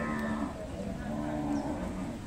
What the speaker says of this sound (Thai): วัวครับวัวสาวสองปี